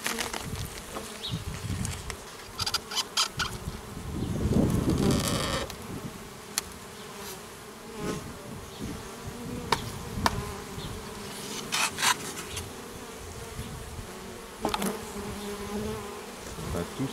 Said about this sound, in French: Il y a beaucoup d'abeilles.